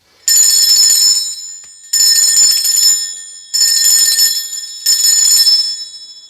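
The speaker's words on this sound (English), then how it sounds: "I'm going to be ringing this bell." A bell rung loudly and close by in four long, bright, ringing bursts, each fading before the next, with a slightly shorter gap before the last.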